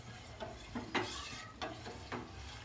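Milk stirred with milk powder in a bowl, soft rhythmic swishing and scraping strokes repeating about every half second, close and fairly quiet with no voice over it.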